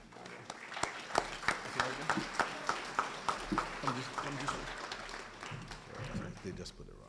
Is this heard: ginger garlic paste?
no